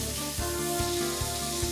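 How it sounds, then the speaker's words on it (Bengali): Jackfruit pieces fry in plenty of oil with salt, giving a dense, steady sizzle with a low tonal hum and a few soft, regular thumps underneath, close and continuous. "এঁচোড়গুলো নুনের সঙ্গে মিশিয়ে নেব এবং সামান্য লাল করে ভেজে নেব।"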